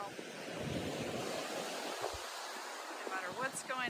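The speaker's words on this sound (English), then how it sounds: "It's windy here. It's probably messing up the audio." Outdoor wind buffets the microphone with a steady, rough, rumbling roar that never lets up, and a few faint higher tones come through near the end.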